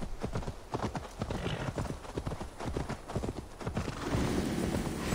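Horse galloping in Assassin's Creed Valhalla, rapid rhythmic hoofbeats drumming close and steady, with a brief whinny and faint background sounds toward the end.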